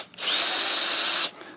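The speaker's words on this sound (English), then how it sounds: "first let's drill a hole right here" Power drill boring a hole to hang an IKEA shelf, a single loud steady whine lasting about a second with a slight rise in pitch as it spins up, then stopping.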